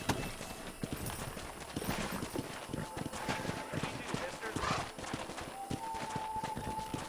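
Horses gallop in Red Dead Redemption, a dense run of hoof clip-clops drumming steadily under game dialogue and outdoor ambience, with an occasional faint whinny.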